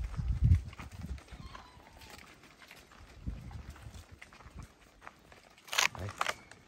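Cattle being herded into a pen on a farm shuffle and clop in scattered steps at close range, with a couple of louder thumps near the end and faint voices in the background.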